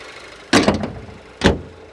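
Two solid thumps from a Mercedes GLA200 as the bonnet is shut, a first loud slam with brief rattling decay followed about a second later by a second firm close, both nearby with no voices.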